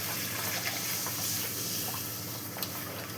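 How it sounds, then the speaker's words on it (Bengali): A bowl of water poured into a hot pan of tilapia and bori curry, giving a steady hiss and sizzle of steam with a gushing wash throughout, close and continuous, no voices. "এবার আমি এক বাটি জল দিয়ে দিলাম।"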